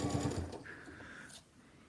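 A sewing machine stitches through layered quilt blocks joined by the quilt-as-you-go method, a short burst of quick rhythmic needle clatter near the start that gives way to a fainter, steadier hum and then quiet.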